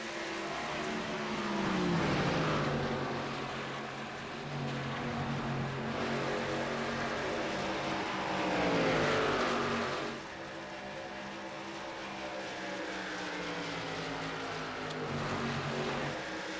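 ARCA and Truck series race cars racing at Las Vegas, engines roaring past in repeated waves, each pass rising and falling in pitch as the field sweeps by on the oval, loud and continuous.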